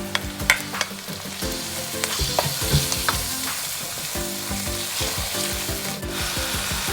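Chicken pieces dropped into a pan of sautéed garlic sizzle loudly, with scraping and clattering stirring sounds over a continuous close frying hiss and no talk.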